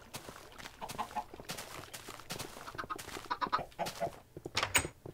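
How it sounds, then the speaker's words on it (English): Chickens in the Minecraft video game, about eight penned together, give scattered soft clucks and squawks in irregular bursts, faint and close, with no speech. "Now we have roughly 8 chickens in there"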